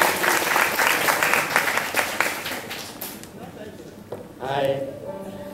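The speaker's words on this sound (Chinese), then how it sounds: "掌声鼓励一下" An indoor crowd at a children's church service claps for about three seconds, a dense burst that then fades while a voice starts speaking over the tail.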